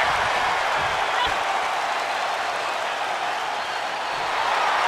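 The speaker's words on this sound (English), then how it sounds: "With every move you make, you hear this capacity crowd following you on that journey." A capacity crowd at a WWE SmackDown wrestling arena roars in a steady, dense wash of cheering and applause that holds loud and constant throughout.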